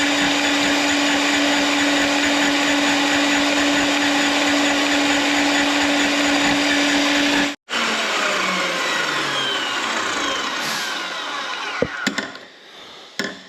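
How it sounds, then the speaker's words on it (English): A line boring machine's cutter head spins and cuts metal on a damaged Deere 655K track loader, a loud steady whirring drone with a bright high whine that cuts off abruptly partway through, followed by quieter clanks and mechanical rattles. "You can see that cutter head, this thing just keeps moving out as that spins around."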